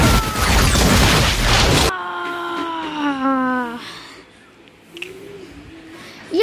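A Godzilla video game battle against a pteranodon, with a loud crashing, explosive burst in the first two seconds giving way to shrill, warbling synthetic cries and fainter rumbles.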